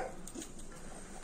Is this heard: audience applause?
no